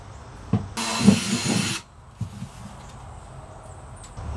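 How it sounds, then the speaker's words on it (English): A power drill bores drainage holes into a plant pot while a banana tree is being potted up, one loud burst of about a second with faint handling noises before and after. "I always like to drill a couple of holes in this as well so that water doesn't stand here."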